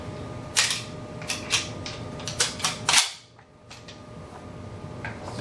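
A pump-action shotgun being cycled during dry practice, a shell moving from the magazine tube into the chamber: a series of sharp metallic clicks and clacks, close and distinct, over a low steady background hum.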